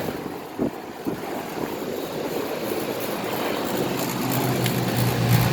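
Old Goodman 5-ton air conditioner condenser from 2007 running outdoors at a Bear Pit restaurant, a steady broadband fan whoosh with a low hum that swells slightly toward the end, no talking.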